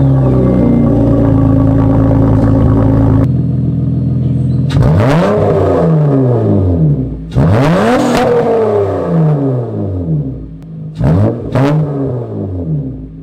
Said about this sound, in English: let me show you the cold start on this car